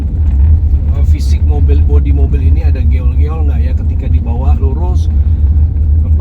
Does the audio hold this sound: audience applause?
no